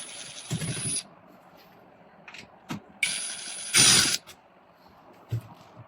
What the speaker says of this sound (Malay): So yang ni kena buka lah, skru ni.